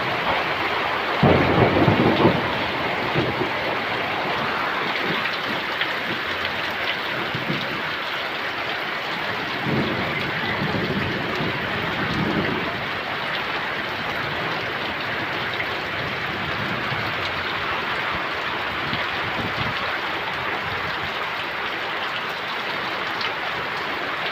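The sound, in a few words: rain falling with thunder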